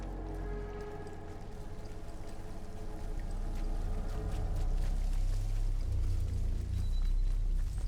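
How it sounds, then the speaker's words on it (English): Steady rushing water of a waterfall in the Atomfall video game, a dense continuous roar with a low rumble that grows slightly louder midway, heard alone without voices. "Waterfall?"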